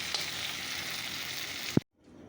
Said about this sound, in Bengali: এটা ভাজা ভাজা করে তারপরে ঝোল দিয়ে দেবো এটা লাল করে ভেজে নিই